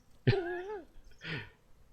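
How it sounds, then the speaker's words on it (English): Bridget, the family dog in The Hand of Glory video game, gives a short close bark followed by a softer second vocal huff, with no talking. "The family dog, Bridget."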